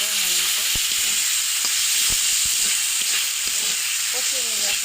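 Chopped tomato and spices frying in oil in a pan while being stirred: a steady loud sizzle with scattered scraping clicks from the spoon, and faint voice-like tones drifting underneath.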